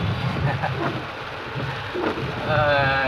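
Heavy monsoon rain in Ahmedabad pours steadily with a dense, continuous hiss, and a low rumble sits underneath throughout.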